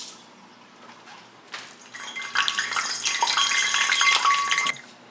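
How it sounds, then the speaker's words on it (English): Water flung into hot oil in a cast-iron skillet, a sudden loud crackling sizzle bursting up after a quieter start and hissing steadily for a couple of seconds before cutting off. "I'm gonna grab some water and I'm gonna sling it into the skillet and watch it sizzle"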